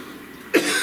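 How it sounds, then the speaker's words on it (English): A single short cough from a person, sharp and close, rising out of a quiet room tone. "One last cough."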